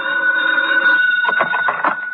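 A telephone rings in an old-time radio detective drama, a steady electric bell tone that runs throughout, with a rougher burst of rattling rings in the second half. It is fairly loud and plays alone.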